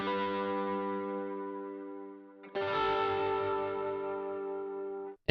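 Electric guitar played through a Corey Wong amp with overdrive, distortion and a stereo doubler, two sustained ringing chords, each left to decay before the next strikes, clear and upfront.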